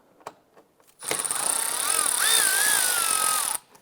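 A driver fitted with a T20 Torx bit spins out a bumper screw on a 2011-2019 Ford Fiesta, a steady whirring buzz lasting about two and a half seconds with rising and falling pitch, close and fairly loud.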